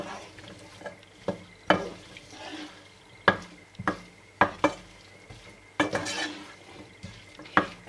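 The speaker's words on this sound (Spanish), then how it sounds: "Vamos a ir sofriendo la cebolla y el pimiento. Tenemos el aceite ya caliente." Chopped onion and pepper fry in hot oil in a pan for a potato and salt cod dish, with a soft sizzle under repeated close scrapes and clanks of a utensil stirring against the pan.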